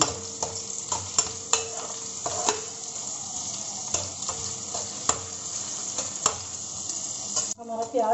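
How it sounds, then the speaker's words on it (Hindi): Onion and capsicum fry together in a pan, a steady faint sizzle broken by regular sharp clicks of a spoon stirring against the metal. "अब दोनों को हम इकट्ठा भूनेंगे"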